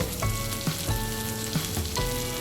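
Fresh coriander is stirred into tomato chutney frying in a pan: a steady close sizzle with a few repeated scraping stirs breaking through at regular intervals, no voices.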